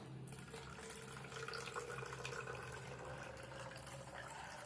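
Normal tap water pours into a glass, a soft continuous trickle under a low background hum, faint and steady throughout.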